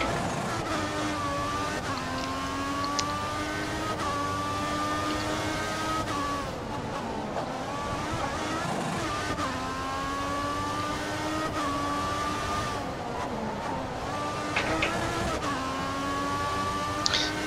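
F1 race car engine in F1 2014 climbing through the gears, a high whining tone rising and dropping at each shift, steady and fairly close, with other cars buzzing around it.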